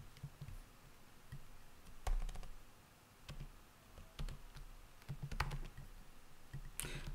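Typing on a computer keyboard while writing simple HTML and CSS classes, heard as irregular bursts of close, crisp key clicks and taps with short pauses. No one talks.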